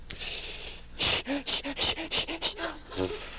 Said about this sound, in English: That's the breathing I learned at the nightly course with my wife.